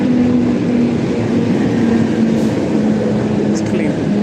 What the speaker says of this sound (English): Ah, there's the train. I think it's an older train today.